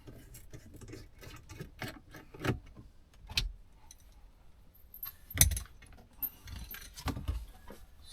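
A Torx driver works loose screws on a Mercedes W205 dashboard, giving sparse, sharp clicks and small metallic rattles close by in a quiet cabin.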